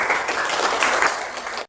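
A classroom of students applauds together, a dense, steady burst of clapping that fills the room at close range and then stops abruptly.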